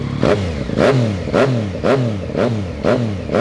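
A 2019 Yamaha MT-09 with an Akrapovic full-system exhaust revs hard at a standstill, about seven sharp rises and falls in a steady rhythm, close and loud with no talk over it.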